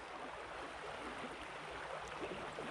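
Sandy Creek flowing along icy banks on a cold day near freezing, a soft, steady watery rush that stays faint and even throughout.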